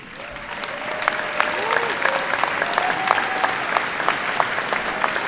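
A high school graduation audience keeps applauding long-serving faculty, steady sustained clapping from a large crowd at even loudness, with faint voices mixed beneath.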